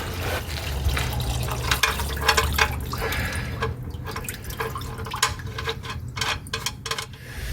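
Fuel draining from a 1974 Dodge D100 into a metal pan, a close stream of irregular drips and splashes ringing in the pan over a low steady hum.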